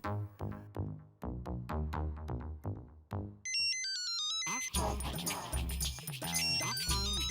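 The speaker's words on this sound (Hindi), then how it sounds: "वैजंती का फोन" A mobile phone plays a melodic ringtone loudly and repeatedly, with a music-like tune in a Hindi sitcom scene before the call; the ringing continues throughout over background score.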